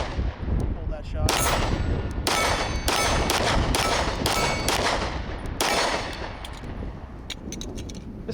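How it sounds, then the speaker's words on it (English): A Kimber Custom LW 9mm 1911 lightweight pistol fed from Wilson Combat magazines fires a string of sharp, loud shots at irregular intervals, about seven reports echoing outdoors. "we'll shoot some Wilson Combat mags through it"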